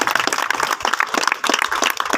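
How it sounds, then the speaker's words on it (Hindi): An audience at a small roadside meeting applauds for Maulana Rehan Usmani, a brief burst of dense, moderately loud clapping from a crowd, with no speech over it. "एक बार शानदार तालियां चाहूंगा मौलाना उस्मानी"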